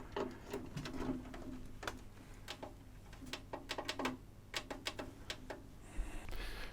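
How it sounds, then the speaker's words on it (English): Relay inside a Kenwood A-85 hi-fi amplifier clicks repeatedly in sharp, close taps, irregularly spaced and sometimes in quick pairs, over a low steady background hum. "I can hear the relay clicking."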